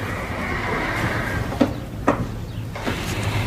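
A horse whinnies in short bursts over a steady low rumble, a few sharp calls spaced about half a second apart.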